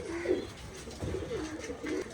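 Pigeons, some loose outside their cages, coo in low repeated rolling phrases that rise and fall steadily at close range.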